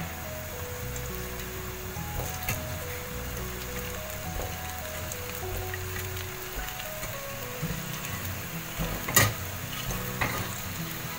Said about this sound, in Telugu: అదే ప్యాన్లో కొంచెం ఆయిల్ వేసుకుని ఎగ్స్ వేస్తున్నాను.